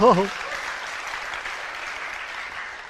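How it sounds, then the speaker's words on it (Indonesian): Audience applause at a spiritual talk, a broad wash of clapping that follows a brief sung or spoken voice at the start, then holds steady and fairly loud to the end. "Tepuk tangan dulu."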